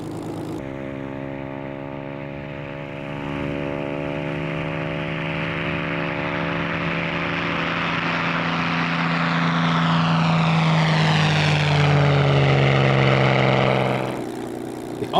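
A Spitfire PR Mark 11 at Duxford runs its piston engine, a loud, steady propeller drone with strong harmonic tones that swell and rise in pitch toward the end before cutting off abruptly.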